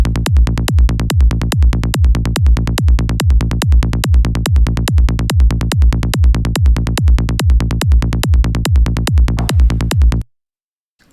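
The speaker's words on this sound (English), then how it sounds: "Boom. Kick drum. Nicely phase aligned" A punchy kick drum sample repeats in a fast, even loop about three hits per second for ten seconds, loud and deep with a sharp click on each attack, then stops abruptly into silence.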